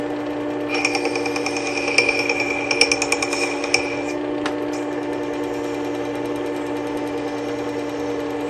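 A wood carving tool held against a spinning sandpaper wheel gives a steady, continuous mechanical whine with strong sustained tones, and bright scraping contact bursts come and go over the first few seconds.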